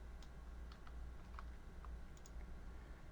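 Faint, scattered taps on a computer keyboard, a few keystrokes spread over a few seconds, under a low steady hum.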